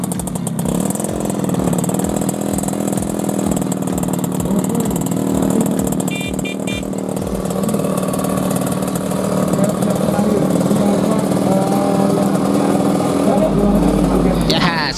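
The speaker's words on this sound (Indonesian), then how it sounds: "suara khas banget, dua tak, motor tahun 73, dua tak, smoking gitu ya." A restored 1973 Suzuki A100 two-stroke motorcycle engine runs loudly up close, a buzzing, ringing drone with a rapid pulsing beat, under a speaking voice.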